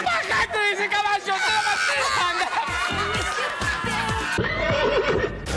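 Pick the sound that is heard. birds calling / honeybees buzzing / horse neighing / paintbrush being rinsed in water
horse neighing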